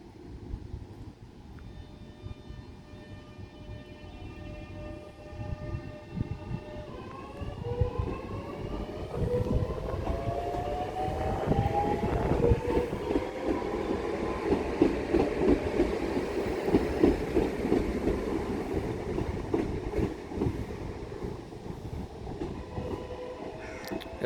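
A train pulls away from Grove Park station, wheels clicking and motors whining upward in pitch as it gathers speed, a steady rumbling rail sound that builds and carries on for many seconds.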